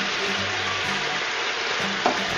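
Frog legs sizzle in a hot pan as they are flipped over, a loud steady frying hiss close up with faint scrapes and a small clatter near the end.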